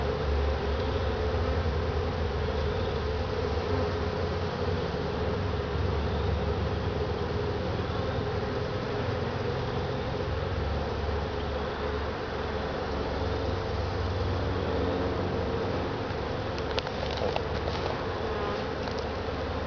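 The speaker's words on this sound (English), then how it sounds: "You can see that the hive has gotten pretty well riled up" A dense, agitated buzzing of many riled-up bees around an opened hive fills the air continuously, a steady swarming drone with no talk.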